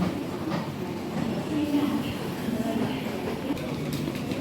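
Hong Kong MTR train, a steady low rumble of rail noise with faint rattles and clicks, continuous and moderately loud, under a person talking.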